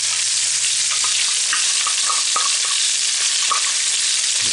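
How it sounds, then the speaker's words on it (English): Garlic sautéing in melted butter in the center of a pan beside seared lobster, a loud, dense, continuous sizzle with faint crackles and small pops throughout and no voices. "I'm melting some more butter here in the middle, in the center of the pan, and I'm going to saute the garlic."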